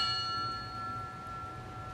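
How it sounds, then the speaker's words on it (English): At a police memorial ceremony, a bell is struck once in honor of a fallen officer, its clear ringing tone hanging and slowly fading in a quiet hall. "to invite our guest, Ms. Elizabeth French, to ring the bell in honor of her daughter, Elizabeth."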